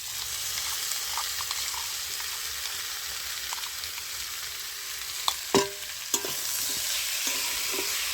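Spice paste frying with cauliflower stems in a pan, a steady close sizzle with a few sharp scrapes and clacks of a spatula stirring near the end.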